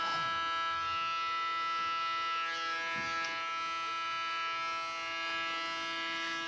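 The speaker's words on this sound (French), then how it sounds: "C'est la tondeuse." Electric hair clippers hum steadily and continuously during a men's haircut, a close, even electric buzz that holds for the whole stretch with no talking.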